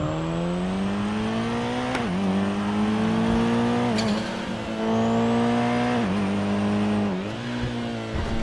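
A car engine with an engine swap in a video game at a car meet, droning steadily with repeated rev rises and dips about every two seconds as gears shift, loud and continuous with no talk.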